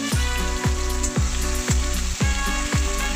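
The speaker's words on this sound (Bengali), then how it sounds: "যতক্ষণ না লাল হয়েছে আমি পেঁয়াজটাকে হালকা আঁচে নাড়াচাড়া করতে থাকবো।" Sliced onions with bay leaf fry in hot oil over low heat for a Bengali banana flower curry, giving a steady close sizzle broken by regular scraping stir strokes about every half second.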